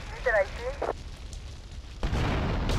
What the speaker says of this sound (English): I toss one of those on the ground. And when they ride over it, kaboom!